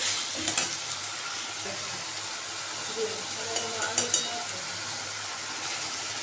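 Fish curry of katla in a pan, sizzling softly and stirred after tomato sauce is added, a continuous low frying hiss with occasional scraping stir clicks, no talk.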